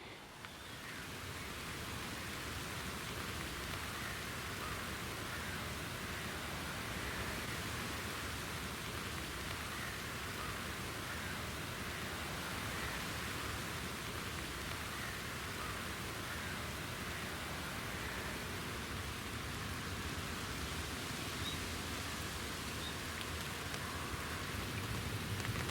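Heavy rain falls steadily outside a fishing bivvy at a carp lake. A loud, unbroken hiss of downpour drums on the surface, alone with no voices.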